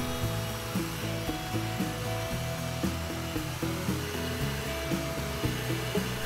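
Heat gun blows a steady, loud whir close by while heating an exterior wall, with a continuous motor drone and fluctuating tones throughout and no speech.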